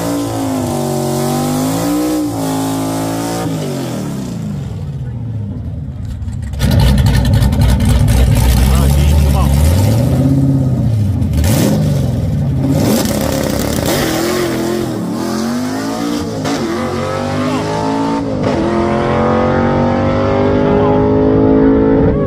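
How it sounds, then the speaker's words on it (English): Drag car engine revving at a race track during a drag-and-drive rally, a loud, rising and falling roar that swells louder partway through and runs continuously under people talking nearby. "Car's looking good and sounding good."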